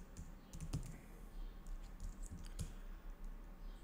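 Quiet, scattered keystrokes on a computer keyboard while code is entered for a Node.js Shopify API tutorial, soft irregular clicks at close range over a low background hum.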